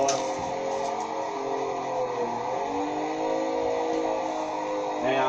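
Car engine in Assetto Corsa on an Xbox One with a G920 wheel, held at high revs during a drift, a continuous loud droning rev with shifting pitch throughout.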